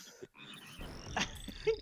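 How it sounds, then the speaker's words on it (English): Frogs croak in the video game Shell Shock, a short burst of chirpy, rising calls over a steady low game background hum. "Oh, no, oh, the frogs."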